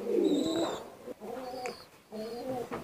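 High flyer pigeons coo in a loft, a few rounded, repeated calls in separate bursts with brief pauses between, fairly close and moderately loud.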